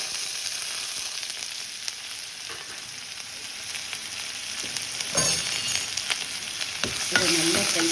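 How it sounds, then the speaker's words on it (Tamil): Onion, garlic, dried chili and curry leaves frying in oil, a continuous close sizzle with occasional stirring scrapes and small louder crackles, no talking. "காஞ்ச மிளகா, கருவேப்பிலை, இது 3 போட்டு ஒன்றா ஃப்ரை பண்ணி"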